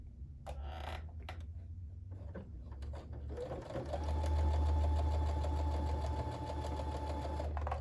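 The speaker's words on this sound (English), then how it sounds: "I'm gonna sew down the side" A sewing machine stitches down the side of a quilt block with a rapid, even mechanical whir that starts after a few clicks and handling noises and runs steadily to the end.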